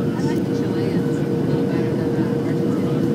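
Airliner cabin on approach to Oakland from Seattle, flaps lowering under a steady, loud low rumble of engine and airflow that fills the whole stretch, with a faint higher whine drifting through.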